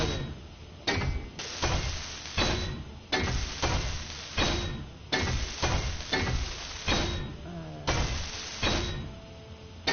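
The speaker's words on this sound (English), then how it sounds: "get the frame welded up" Welding on a rig frame in Crashed on Mars, a series of about ten evenly spaced crackling, sizzling bursts, each starting sharply and tailing off, close and alone without talk.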